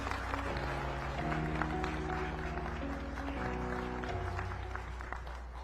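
An audience at a keynote speech session applauds steadily for several seconds, a dense even patter of clapping over a low sustained tonal background.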